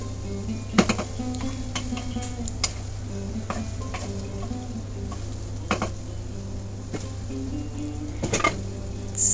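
Taro stolons with shrimp sizzle softly in a pan as a utensil scrapes and knocks against the metal in irregular stirs, with a constant low hum underneath and no talking.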